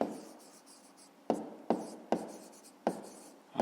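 Pen writing on paper while working a fifth-grade math exercise: soft steady scratching strokes, close and quiet, broken by several sharp taps as the pen lands, with no voice.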